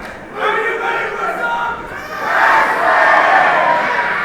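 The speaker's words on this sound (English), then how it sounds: "Chip Chambers with the crowd behind him." Wrestling arena crowd cheering and shouting loudly for Chip Chambers, a sustained roar that swells higher after a brief dip, with scattered yells in the mass of voices.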